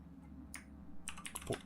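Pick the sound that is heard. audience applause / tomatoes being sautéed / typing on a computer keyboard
typing on a computer keyboard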